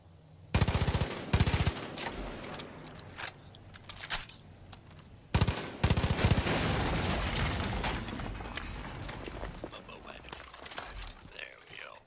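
Loud bursts of automatic gunfire in Far Cry 5, with rapid rattling volleys early, then a long sustained stretch of shots and blasts that slowly trails off, with a voice talking in between.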